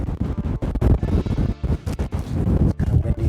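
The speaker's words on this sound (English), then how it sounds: "It's kind of windy. It's really windy right now." Strong, gusty wind buffeting the microphone, with broadband rumbling roar rising and dropping in uneven bursts throughout.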